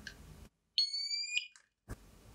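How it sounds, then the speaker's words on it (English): A smoke alarm's test button held down produces a brief electronic chime: a clear, bright two-part tone with steady harmonics lasting under a second, set between short stretches of silence and handling noise. "If I hold down the test button a little bit longer, an audio chime will be heard."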